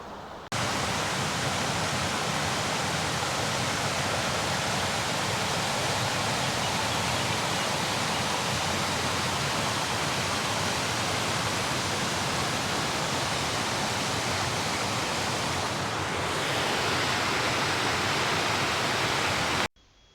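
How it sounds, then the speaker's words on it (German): A mountain stream rushes along the valley floor of a gorge, a steady, dense broadband roar that holds unchanged for the full length and stops abruptly at the end. "Im Tal unten rauscht der Bach"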